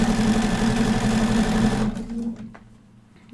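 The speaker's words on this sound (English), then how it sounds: "I am sewing these kind of in a little bit of a backwards order now" A sewing machine stitches plaid fabric in a fast, steady mechanical whir that runs loud and close for about two seconds, then stops abruptly, leaving faint clicks and handling noise.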